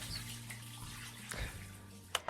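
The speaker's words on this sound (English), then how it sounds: "I have to shower off Ron's creamy surprise." A shower running, with a soft, steady wash of water close by under a low electrical hum and a couple of brief splashy knocks near the end.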